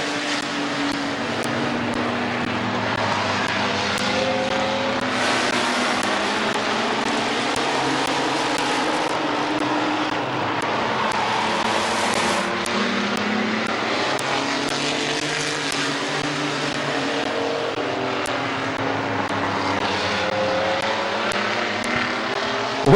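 Race cars roar around a speedway oval, a dense continuous engine drone with rising and falling pitch as cars pass, loud and steady throughout.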